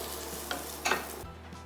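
Garlic and chorizo sizzle steadily in a pan, a soft continuous frying hiss broken by a couple of brief stirring scrapes, close and fairly quiet with no talking.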